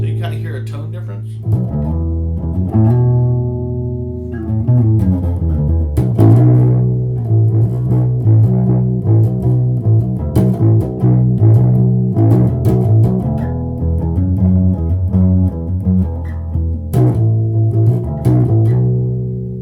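Ibanez SRX 700 bass guitar played with shifting tone as its back knob is turned, sustained low notes and harmonic lines ringing steadily and fairly loud throughout, no talking.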